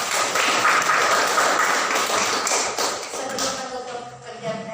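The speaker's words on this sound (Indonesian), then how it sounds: "Kita beri aplaus untuk kita semua." Applause from a classroom or group gathering at the end of a session, a dense, steady patter of many hands clapping fairly near, fading slightly toward the end.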